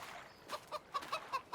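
Chickens in a Farming Simulator 22 chicken coop, a few soft, short clucks at a regular pace, fairly faint against a low background.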